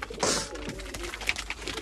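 Soft cooing from high-flyer pigeons nearby, a low throaty burble with faint rustles and a few sharp chirps around it.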